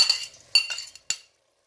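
A metal spoon clinks and scrapes against a pot while stirring half-cooked rice with vermicelli, three or four short, close, bright knocks and then silence.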